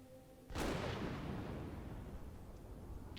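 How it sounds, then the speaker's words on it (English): A sharp thunder crack bursts in, then a dense, steady roar of heavy rain carries on loudly, within the Fall of the Samurai strategy game during a battle. "We went from fog to heavy rain and thunder."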